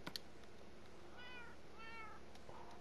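A cat meows in the video game Minecraft, twice in quick succession, each call a short, rising-and-falling mew, quiet and a little distant over soft background hum.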